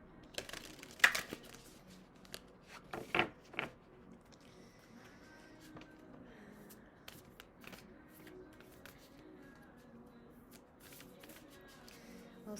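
Tarot cards being shuffled by hand for a three-card reading, a close, soft papery riffling and slapping that comes in bursts early on, then fades to quiet handling noise.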